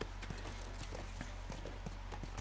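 Horse hooves in The Last of Us video game: a steady clip-clop of a horse walking, even and rhythmic, heard alone over a constant low rumble.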